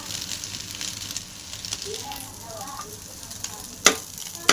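Egg rice is stir-fried in a pan, a moderate sizzle with scattered crackles and occasional sharp clanks of a utensil against the pan, close by.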